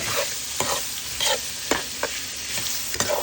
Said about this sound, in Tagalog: magigisa muna tayo ng bawang, sibuyas, at kamatis